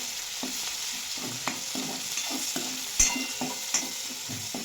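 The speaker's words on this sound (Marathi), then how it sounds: "आता तेल गरम झालेलं आहे आता याच्यामध्ये अद्रक लसूण आणि कोथिंबीर वाटून टाकलेली आहे आता याला चांगलं परतून घ्यायचं" A ginger, garlic and coriander paste sautés in hot oil, giving a faint, soft sizzle with occasional light spoon taps and scrapes against the pan, with no voices.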